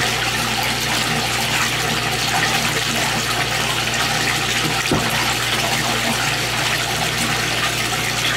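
Pump circulating water through a large indoor aquaculture tank, a loud, continuous rushing and gushing of water with a steady low hum that stays even throughout, close by and with no talking.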